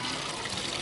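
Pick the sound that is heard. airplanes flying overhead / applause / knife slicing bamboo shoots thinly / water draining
water draining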